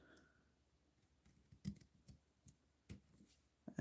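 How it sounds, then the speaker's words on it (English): Scissors trimming paper for a Christmas card, a handful of close, crisp snips in an irregular rhythm against a quiet background, ending with a louder cut. "get my scissors and"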